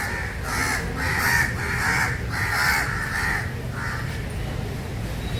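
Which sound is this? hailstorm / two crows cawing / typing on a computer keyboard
two crows cawing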